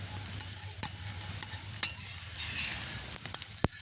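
Dosa batter frying in oil on a flat pan, giving a steady close sizzle with soft crackles, a few sharp spatter pops and a hum underneath, with no voices.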